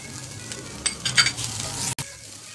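Chopped onion sizzles and fries in a pan with ginger-garlic paste as it is stirred, a steady hiss with soft scraping and a few clinks of the spoon against the pan.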